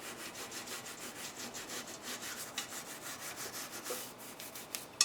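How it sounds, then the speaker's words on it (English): Bottle brush scrubbing around Berkey water filters, a quiet, steady series of rapid rough rubbing strokes repeating back and forth, close and soft, with no talking. "I'm just taking the bottle brush, and the larger one is better, and I'm scrubbing around my filters."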